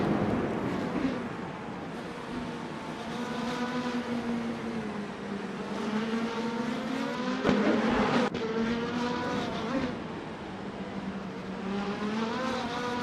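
Indy Lights race cars lapping the circuit at Batangas, a steady, close engine howl with rising and falling pitch as several cars run in a tight pack, loud and continuous with no voices.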